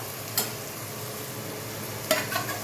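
Pre-fried prawns are stirred in a hot wok for Szechuan fried rice, giving a steady low sizzle broken by two sharp scraping stirs of the spatula.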